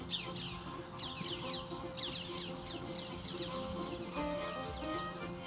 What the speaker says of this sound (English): The parrots are out in force today.